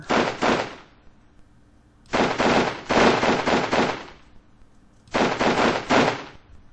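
A light machine gun fires in a World War video game in three close, loud bursts of rapid shots, separated by short quiet gaps.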